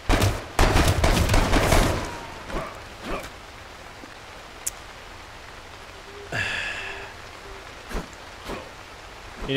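Sharp gunshots crack in the video game H1Z1, a loud opening burst followed by scattered single shots and a second cluster midway, each snapping out alone against a quiet, hissy background with no talking.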